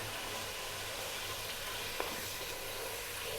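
Onion and chopped garlic sizzle in a hot pan over fairly high heat, giving an even, gentle hiss that holds steady throughout with one faint tick partway through. No one speaks.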